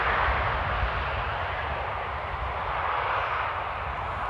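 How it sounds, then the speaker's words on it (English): A passenger airliner lands at Amsterdam Airport in the rain, its engines giving a steady, loud broadband roar with a deep rumble underneath throughout. "That was a bouncy landing, if you ask me."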